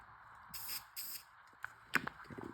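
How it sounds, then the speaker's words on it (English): Short bursts of an angled spray-paint nozzle hiss while a rifle is coated in camouflage paint. Two distinct puffs are followed by quieter shuffling and handling noises up close. "now I got an angled spray on this"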